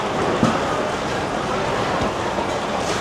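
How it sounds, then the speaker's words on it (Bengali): Howrah–CSMT Duronto Express at platform 15 of Mumbai CSMT station, with close, continuous rail rumble and a few sharp clacks of the wheels and coaches. "এই যে আমাদের ট্রেন এখানে এসে দাঁড়িয়েছে"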